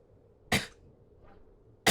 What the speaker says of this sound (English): Coughing moves my hand.